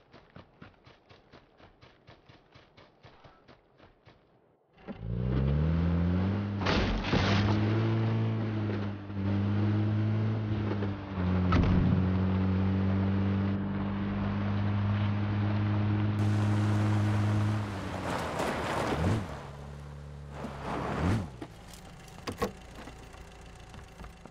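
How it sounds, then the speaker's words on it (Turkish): A car engine in the video game Squad revs and hums steadily for many seconds, its pitch rising and falling, close and fairly loud, with a faint ticking before it starts. "Araba sesini duydun değil mi Rahman?"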